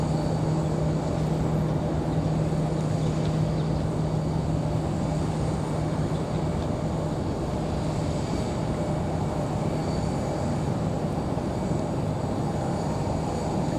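Southwest airliner on downwind approach near Raleigh-Durham International Airport, a steady broad engine roar holding level and continuous throughout, moderately loud and distant.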